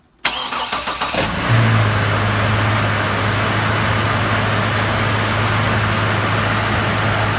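A Mitsubishi 3000GT's engine is cranked over several rapid pulses, catches and settles into a loud, steady idle up close with a constant drone, with no one talking.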